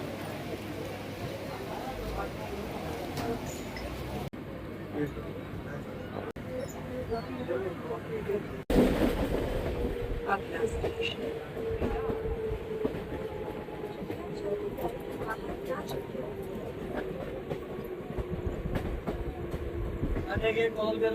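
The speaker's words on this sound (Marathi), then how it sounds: "आत्ताच आम्ही पोहोचलो आहे विरार स्टेशनला. आता ही निघेल ट्रेन थोडा वेळातच." A suburban train stands and moves at Virar railway station, its rumble and rolling rail noise running throughout under steady crowd chatter, with a sharp jolt midway before a droning tone settles in as the carriage sound continues.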